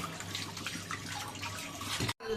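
Two palm fruits are washed under running water, a steady splashing and trickling wash close by that cuts off abruptly near the end before resuming, with no talking.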